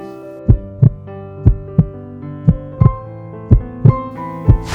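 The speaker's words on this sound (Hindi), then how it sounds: "ये दिल की धड़कन की आवाज सुनाई दे रही है" Loud, close heartbeat thumping in a steady lub-dub rhythm, paired beats repeating about once a second over a faint musical drone.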